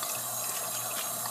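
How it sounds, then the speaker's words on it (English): Water is splashed onto a face while waterproof makeup is washed off at a sink, a short burst of running and splashing water, close and fairly loud. "See that? I'm splashing"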